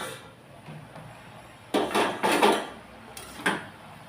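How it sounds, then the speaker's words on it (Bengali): Metal pot lid lifted off a cooking pot while greens cook with salt and turmeric, a few close clanks and scrapes in the middle against a low kitchen background. "এখন একটু ঢেকে দেব ঢাকনা খুলে নিচ্ছি"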